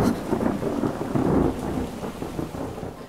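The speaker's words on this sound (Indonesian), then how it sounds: "Ditambah lagi dengan hujan turun sangat lebat." Heavy rain pours down steadily with rumbles of thunder mixed in, a dense, continuous roar with no voices.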